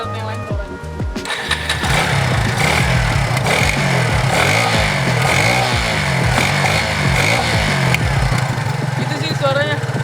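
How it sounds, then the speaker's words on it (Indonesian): A 2018 Kawasaki W175 SE motorcycle engine with non-standard settings starts up and runs loudly and steadily, with a deep, slightly bassy rumble and some revving throughout. "gue mau ngetes suara motor standar tapi dengan settingan yang tidak standar."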